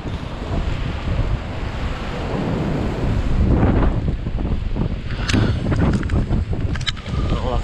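Strong wind blusters loudly beside the Mekong River, with heavy microphone buffeting and a roaring, surf-like wash that continues throughout.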